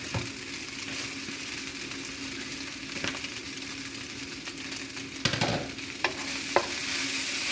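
Shrimp stir-fry noodles with dark soy sauce being stirred and turned in a hot pan, a continuous sizzle broken by several sharp scrapes and clanks of the utensil against the pan.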